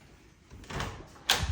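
A toilet door in a newly built modern home moves softly and then shuts with a sharp, close click or thud near the end, in an otherwise quiet room.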